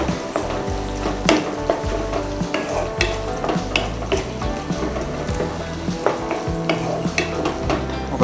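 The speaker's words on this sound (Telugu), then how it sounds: "చిల్లీ సాస్ 2 టేబుల్ స్పూన్స్, కొద్దిగా ఫ్రై చేద్దాం." Dragon chicken fries with chilli sauce in a pan, a continuous hot sizzle under brisk, rhythmic scraping and tossing of a ladle, close and fairly loud, with no talking.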